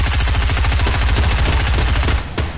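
Rapid automatic gunfire in a battle-royale style video game, a dense, loud, continuous burst of shots that cuts out near the end, leaving a brief sharp crack.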